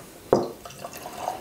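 Old Grand-Dad 114-proof bourbon poured into a glass: a brief close splash as the liquid first hits, followed by a faint, thin trickle and small drips, with no talk.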